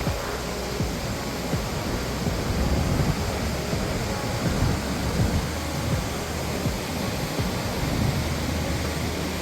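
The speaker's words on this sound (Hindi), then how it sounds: "पहाड़ों से बहती हुई तेज धार वाला नदी का आवाज में एक अलग ही थ्रिल है।" Fast-flowing Himalayan mountain river rushing along a dangerous off-road trail, a steady, dense roar of churning water that stays loud and unbroken throughout, with no voices.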